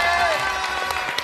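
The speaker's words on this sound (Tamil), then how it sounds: "கரகோஷங்கள் கரகோஷங்கள்" Studio audience applause at a Tamil TV show, a short, dense burst of clapping mixed with crowd noise and voices, loud and close.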